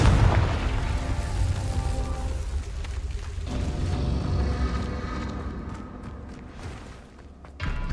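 Fire-blast spell explosions from the Confringo spell in Hogwarts Legacy, a loud booming blast at the start that rolls into a long rumbling, crackling decay lasting several seconds, with a fresh burst at the very end.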